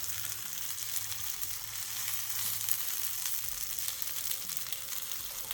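Beef slices cook in 800-degree hot broth inside a PieZano oven, giving a steady, close bubbling sizzle that runs evenly throughout with no voices.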